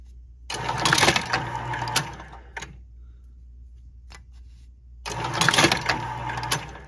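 A gyoza making machine runs in two clattering mechanical bursts of about a second and a half each, separated by quiet gaps with a few single clicks, close and loud with no talk.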